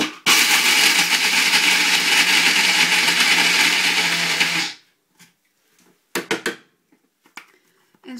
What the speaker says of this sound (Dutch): dan is het gewoon heel makkelijk om dat in de kleine blender te doen